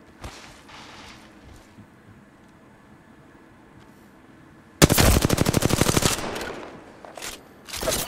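Gunfire erupts in a battle royale video game: after a quiet stretch of low ambience, loud, close rapid automatic bursts crackle for several seconds, followed by further shots.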